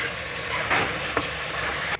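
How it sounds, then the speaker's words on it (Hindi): Masala paste of onion and tomato frying in a pan: a continuous sizzle with a brief stirring scrape and a small clack, close and steady. "मसाले को हम उसको तक भूनेंगे जब तक मसाला हमारा गल ना जाए।"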